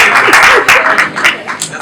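An audience at a press conference claps, producing dense continuous applause that swells and falls over the short moment, with a voice speaking faintly underneath.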